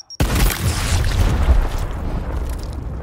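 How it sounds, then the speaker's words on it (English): A frag grenade goes off in Gears Tactics: one sudden, loud, deep boom bursts out of brief silence, then a long rumbling tail of debris slowly fades. "Frag going out."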